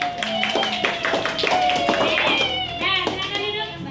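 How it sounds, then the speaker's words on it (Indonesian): Short burst of classroom applause from students clapping for a presenting student group, close and fairly loud, mixed with children's voices and chatter over it. "Kita berikan tepuk tangan."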